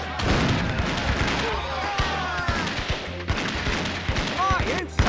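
Gunfire in The Curse of Monkey Island: repeated loud cannon and gun blasts over a dense, noisy battle din. Short bangs and crashes fall at irregular intervals, and whistling projectile sounds pass overhead.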